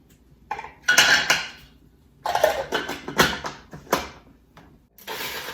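Pots, pans and utensils clatter and clink in bursts while mussels and clams are cooked, with sharp metallic knocks separated by brief quiet gaps, close and loud.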